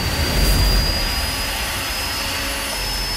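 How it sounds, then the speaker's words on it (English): A GE HA power-generation gas turbine runs with a loud, steady broadband roar and a thin high whine on top, constant throughout with no voices. "The piece of machinery that mixes air with fuel and turns it into the power that lights up lives and drives growth around the world."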